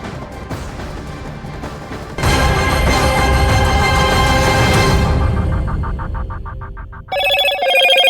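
Motorola's Hello Moto phone ringtone in an advert, a bright electronic melody of repeated tones that rings out loud and clear after a burst of dense, loud music.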